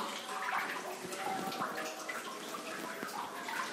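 Natural water flowing steadily inside Jatashankar cave at Pachmarhi, a continuous trickling, splashing wash with echoing drips, fairly near and moderately loud, with no voices over it.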